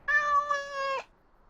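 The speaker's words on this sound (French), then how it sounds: "Oh, quel adorable petit chat!" A cat in the video game Dragon Age Origins gives a single clear, close meow lasting about a second, a harmonic-rich call that bends slightly before stopping abruptly, leaving quiet afterward.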